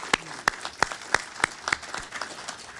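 Conference audience applauding the event's sponsors: a crowd of hands clapping with distinct loud claps popping out at a fairly regular beat, close by and without talk.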